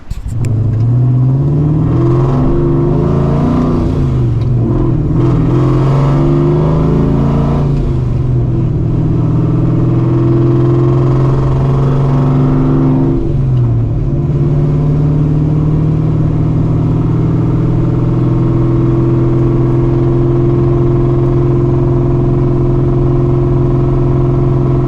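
A 1997 Ford Linwood GT with a Borla muffler and supercharger idles loudly with a deep exhaust rumble, revving up and settling back several times, close and continuous.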